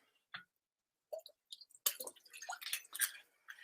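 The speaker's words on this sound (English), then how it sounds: "Finally, add apple cider vinegar." Apple cider vinegar is being added, heard as a few faint, isolated drips and then a short cluster of small wet splashes and squishy liquid sounds close by.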